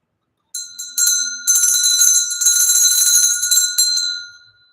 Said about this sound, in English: All right, I'm going to ring the bell.